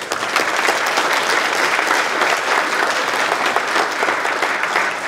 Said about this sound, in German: die haben auch noch einmal einen Applaus verdient